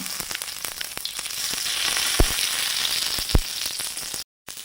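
Fish fries on a tawa with a steady, loud hiss and crackle, punctuated by a couple of sharp spits or knocks, before cutting out abruptly near the end.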